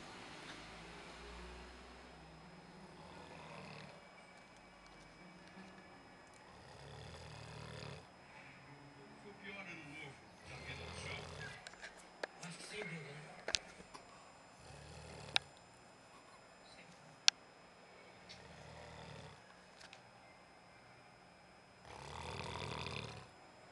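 A person snoring quietly in slow, repeated breaths, each a soft rasping snore separated by pauses, with a few sharp clicks and faint background noise between.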